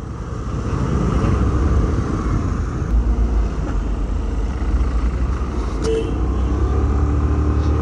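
Steady road traffic on a Sunday, a continuous low rumble of passing cars and motorcycles heard from close by, without clear individual pass-bys.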